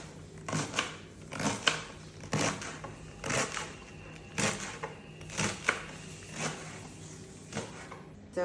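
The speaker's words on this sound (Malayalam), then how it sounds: "ഇത് ചെറിയ പീസായിട്ട് ഇങ്ങനെ അരിഞ്ഞെടുക്കണം" Spinach leaves chopped into small pieces on a board with a knife, giving repeated sharp, fairly close taps in irregular bursts, with no talking.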